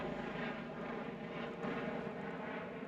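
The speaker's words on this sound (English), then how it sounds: "helicopter going overhead, you might be able to hear" Helicopter passing overhead above a lakeside carp fishing swim on an October overnight session, a steady low rotor and engine drone that stays constant throughout, fairly distant and unbroken.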